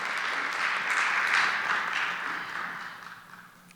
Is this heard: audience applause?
yes